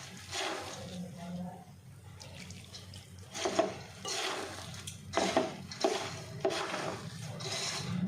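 Water poured a little at a time into a puffed rice mixture while kneading it into a pakora dough, giving soft splashy trickles and wet rubbing in several short bursts, close and moderately loud with no talk.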